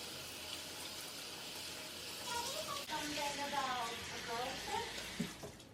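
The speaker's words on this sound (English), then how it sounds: "I'm going to throw it in my strainer, run it under the pipe just to make sure that it's rinsed properly" Tap water running steadily over quinoa in a metal strainer, a continuous close rushing splash with a faint muffled voice underneath.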